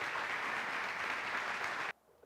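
Church congregation giving a loud, sustained round of applause, dense steady clapping that cuts off abruptly near the end, leaving quiet room tone.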